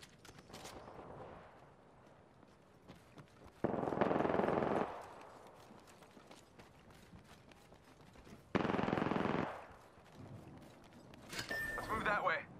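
Video game gunfire in a team shooter match, with long bursts of rapid automatic fire in two loud stretches and scattered shots between, accompanied by voices talking over the action.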